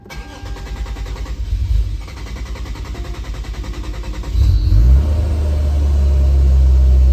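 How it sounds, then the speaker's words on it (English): Engine of a supercharged Lexus IS350 cranks and catches around mid-clip, then settles into a steady, close, loud idle with no talking. "I'm gonna go ahead and start the car"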